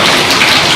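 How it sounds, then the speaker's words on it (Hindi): Heavy monsoon-style rain pouring steadily during flooding, a loud, dense, continuous hiss of drops drumming on surfaces close by, with no voices. "बारिश भोरवा से हो रहा है, सब पर पानी भर गया"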